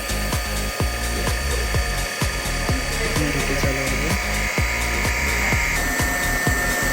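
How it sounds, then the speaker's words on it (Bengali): A motor driven by a Mitsubishi variable frequency drive runs at 40 Hz, giving a steady, close-up electrical whine broken by a run of sharp, uneven clicks and knocks throughout. "দেওয়ার পরেই তো আমার মোটরটি চালু হচ্ছে"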